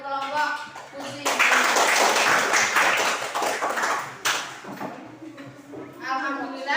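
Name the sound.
classroom applause for a student group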